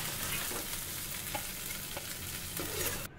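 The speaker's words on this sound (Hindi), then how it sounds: "लगभग 5 मिनट भूनने के बाद भिंडी अच्छे से भून गया है।" Okra fries in a kadai, sizzling steadily and loudly with occasional scrapes of a spoon stirring it, close up and with no voices.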